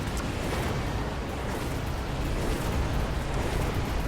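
Missile strikes exploding in the strategy game Mechabellum make a dense, continuous rumbling roar of blasts that holds steady and fairly loud for the whole stretch, with no clear gaps between impacts.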